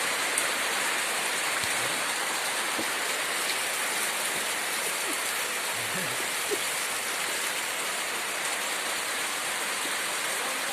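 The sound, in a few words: heavy rain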